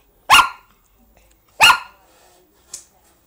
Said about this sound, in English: Just waiting for her to stop barking and then I take her out.